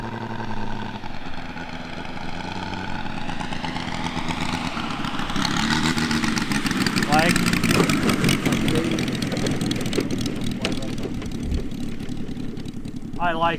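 Radial engine of a TopRC T-28 Trojan composite model plane, 111-inch span, at quarter throttle, a steady droning buzz that swells and fades in pitch, with someone talking over it.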